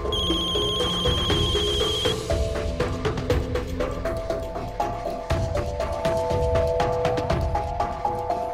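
A telephone rings in a tense crime drama scene, its ringtone pattern repeating steadily and fairly loud over dramatic background music, with no talking.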